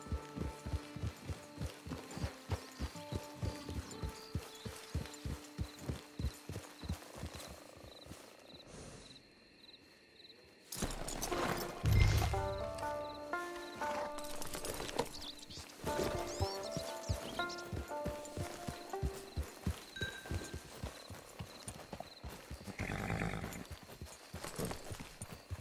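Horse hooves clip-clop steadily on the ground in Red Dead Online, an even rhythmic beat that stops briefly, then resumes among game ambience with chirping insects and faint music.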